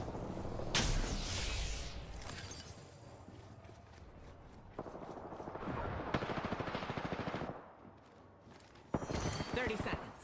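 Battle royale video game gunfire comes in rapid bursts and sustained automatic volleys, sharp and fairly close, interrupted by brief quieter gaps between the firing.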